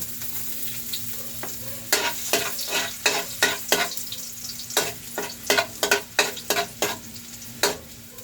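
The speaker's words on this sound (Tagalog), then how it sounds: "mag-gisa na tayo guys ng ating sangkap, yung ating bawang" Garlic sautéing in a pan, a low steady sizzle broken by a rhythmic run of sharp spatula scrapes and taps, close and clear with no talk.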